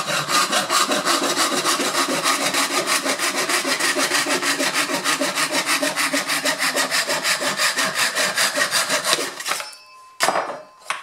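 Rapid, even back-and-forth strokes of a fine-toothed Wolfcraft Japanese hand saw cutting wood in a miter box, loud and close, stopping near the end with a couple of light knocks.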